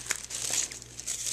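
Tissue paper being folded over into layers, giving close, crisp crinkling and rustling in short bursts.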